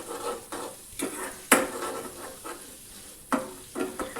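Onion paste sautéing in oil with cumin for restaurant-style chole, a low sizzle under repeated scraping strokes of a spoon against the pan, with a few sharper knocks, close by and without speech.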